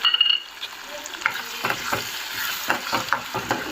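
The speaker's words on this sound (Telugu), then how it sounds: "టమాటా ప్యూరీ వేసుకుందాము." Tomato puree fries in a pan for a hotel-style salna gravy, with a soft sizzle under repeated, rhythmic stirring scrapes heard close up.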